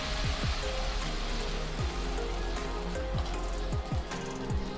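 Ragi (nachni) uttapam batter sizzling steadily on a hot pan, a continuous crackling fry with occasional soft scraping taps as the batter is spread, close and fairly loud with no talking.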